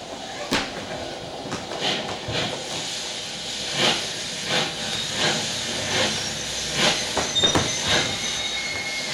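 Steam train at a railway station, staged as a theatre sound effect: a steady steam hiss runs under repeated sharp squeals and clanks of wheels and carriages, moderately loud, with no voices.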